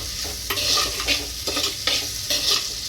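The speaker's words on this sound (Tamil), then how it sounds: "ஸோ நல்லா கிண்டி விடுங்க." Radish greens curry stirred in a pan, with repeated scraping strokes at a steady rhythm over a soft continuous sizzle, close and fairly loud with no voices.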